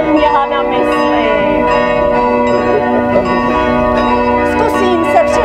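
Church bells ring steadily and loudly at a theatre festival performance of an improvised Shakespearean tragedy in Hronov, their overlapping tones sustained throughout.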